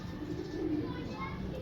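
Pigeons coo softly in a loft of paired fancy flying birds, a low murmuring burble running steadily through the short stretch with faint chirps above.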